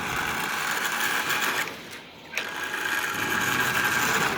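A Marx 1095 Santa Fe toy diesel locomotive's E-unit mechanism whirs and buzzes steadily up close, with a short dip in the middle before the mechanical drone resumes.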